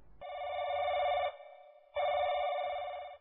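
A telephone bell rings in two long, even bursts separated by a brief pause, clear and alone with no voices.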